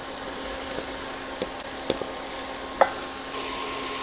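Onions and mushrooms fry together with a bay leaf in a few tablespoons of fat, giving a steady, moderate sizzle broken by a few light clicks of a utensil against the pan.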